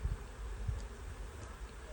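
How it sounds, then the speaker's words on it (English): Bees buzzing around a swarm being retrieved in Alaska, a soft continuous hum with a few louder passes close to the microphone, no voices. "there's bees landing on him"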